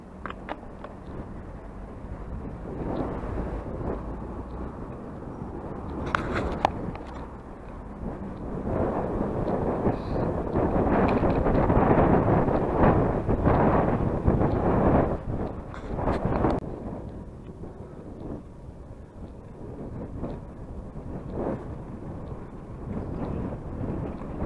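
Strong, gusting wind roars across the microphone during a bike ride near Fairburn Ings on a grey, very windy day, a steady broadband rush that swells louder mid-ride with buffeting bursts.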